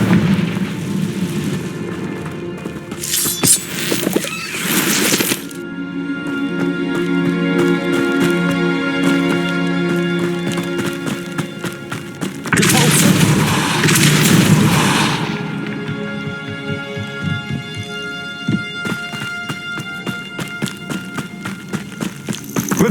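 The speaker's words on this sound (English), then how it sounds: "Confringo!" Game sound effects from Hogwarts Legacy around the Confringo blasting curse, with bursts of fiery booms and rumbling impacts over a steady musical background.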